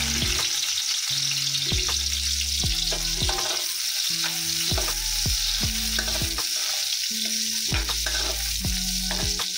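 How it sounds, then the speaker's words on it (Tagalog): Garlic fries in hot oil in a pan with a continuous bright sizzle, while regular stirring strokes scrape and clack against the pan in a steady rhythm. "Lagyan na po natin ang ating bawang"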